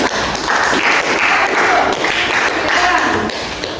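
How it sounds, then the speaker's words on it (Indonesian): Classroom applause for a student group, a lively burst of many hands clapping close by, loud and steady for nearly four seconds, with a few voices faintly mixed in. "Tepuk tangan dulu untuk kelompok."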